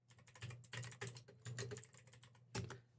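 Quick bursts of typing on a computer keyboard, with clustered clacks, short pauses and a sharper final stroke, close-miked and moderately loud over a low hum, with no voices.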